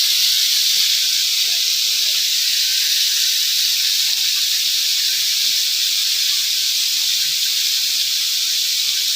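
Small fish fry in hot oil with a loud, dense, constant hiss that never lets up, close by, with a few faint background knocks.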